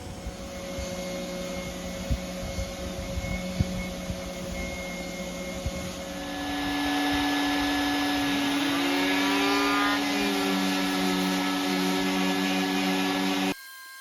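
A power sander works a boat hull bottom in a boatyard, a steady whirring motor hum that climbs to a louder, higher pitch partway through and holds there, close and continuous, with no talking.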